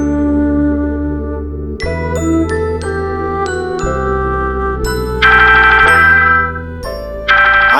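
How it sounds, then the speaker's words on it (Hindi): An incoming-call ringtone plays as a bright chiming melody of repeated tinkling notes, loud and close, with a denser shimmering burst near the end and no talk over it. "आयुष का फोन आया है"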